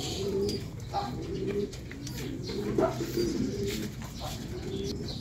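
Pigeons coo softly in repeated low calls, with faint chirps and outdoor background noise around them.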